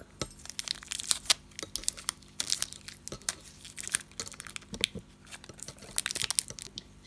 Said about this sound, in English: I'm just taking a little bit of sticky tape and putting it on the end